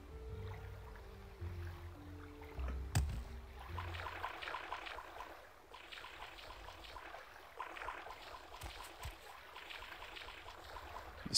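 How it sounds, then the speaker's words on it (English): Water ambience in Morrowind with a slaughterfish lurking nearby: steady lapping and trickling water with faint splashes under a low musical drone, moderately quiet and continuous. "It sounds like there is a slaughter fish in the water."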